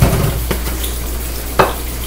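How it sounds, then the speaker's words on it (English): A spoon stirs chicken fried rice in a pot, sizzling steadily with a few scraping knocks against the metal, close and fairly loud with no talking. "You just stir that on around."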